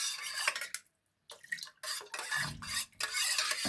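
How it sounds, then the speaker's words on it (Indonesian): Salça sauce thinned with a little water is stirred in a pot, with short bursts of utensil scraping and clinking against the metal, broken by a brief pause. "kita aduk sampai rata"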